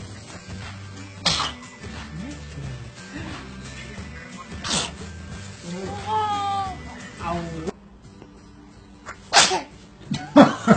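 A baby sneezes several times in short sharp bursts, loud and close, while adults talk and coo nearby in a home setting.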